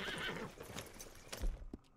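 A horse in the video game Red Dead Redemption 2 whinnies close by with a short, breathy neigh, followed by a few hoof clops, and the sound is faint overall.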